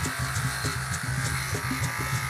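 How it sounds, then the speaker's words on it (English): An electric grinder buzzes steadily and close by as it grinds a wooden stick for a shaker handle, with a rhythmic pulsing whir and no talking. "I start grinding the stick."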